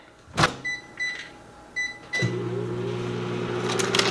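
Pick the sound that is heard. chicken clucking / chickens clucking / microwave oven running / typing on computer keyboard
microwave oven running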